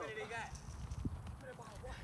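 Horse hooves clip-clop at a relaxed pace on a stable ground, a few soft close thuds under a man's speech in the foreground.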